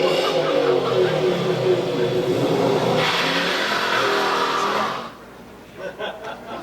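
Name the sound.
2015 Ford Mustang engine revving with line lock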